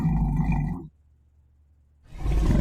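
Roar-like sound effect of the Pokémon Snorlax: a loud, growling roar that cuts off into near silence, then a second burst begins.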